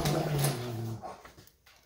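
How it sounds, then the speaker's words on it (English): Dogs play somewhere in the background, giving high whining and whimpering cries for about a second before they fade to near silence. "that's just my dogs playing in the background"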